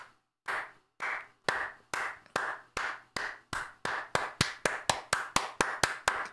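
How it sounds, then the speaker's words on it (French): A single person claps alone in a quiet room, sharp separate claps at first slow and spaced, then quickening into a faster steady rhythm, about eighteen in all. "et on peut applaudir ma femme."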